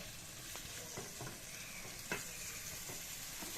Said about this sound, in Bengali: এবার এর মধ্যে আমি চিংড়ি মাছ যেগুলো আছে সমস্তগুলো ঢেলে দেবো।